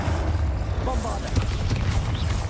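Bombarda spell explosions in Hogwarts Legacy, heard as dull booming blasts and crackling bursts over a steady rumble of game noise, with a voice talking throughout.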